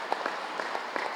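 A crowd applauds to welcome a world peace meditation gathering, the clapping faint and even with a few slightly sharper claps poking through.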